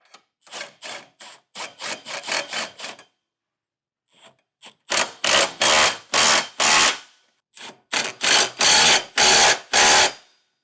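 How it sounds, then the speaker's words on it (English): A 3/4-inch socket wrench tightens nuts on an EcoHitch Stealth trailer hitch for a 2024 Volkswagen, heard as close, loud bursts of rapid ratcheting strokes in several groups separated by short pauses. "We'll tighten those down with a 3/4 inch socket."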